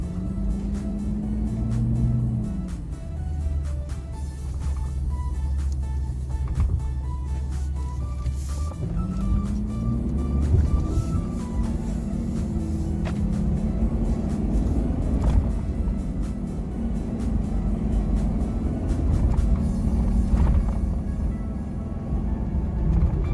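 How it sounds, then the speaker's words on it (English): A 2018 Ford F450 XLT Super Cab wheel-lift wrecker pulls off on a test drive, its engine rumbling steadily and rising in pitch through gear changes, loud and close throughout with no talk. "Okay, we're gonna go ahead and take it for a test drive. Put it in drive."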